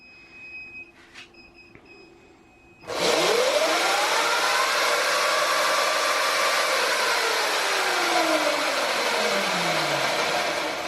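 A Sur Ron Light Bee MX electric dirt bike, set up with a KO controller, has its motor spin up suddenly on a stand and hold a loud, steady whine that rises and then slowly falls while the throttle is held.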